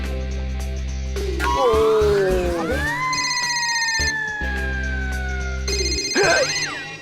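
An electronic ringtone chimes in a repeating melodic pattern with sliding tones, fairly close and clear, over a steady low hum.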